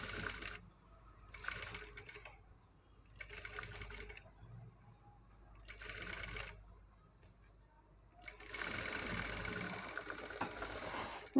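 A sewing machine stitches cloth for invisible neck piping in several bursts of rapid, whirring needle clatter, with short pauses between runs and a longer final run, heard close and fairly quiet.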